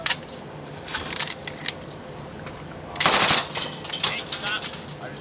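Gunfire from a joint US Marine Corps and Australian Army training exercise: a few sharp bursts of automatic fire, the loudest around the middle, heard at moderate distance amid background noise, with no talk over them.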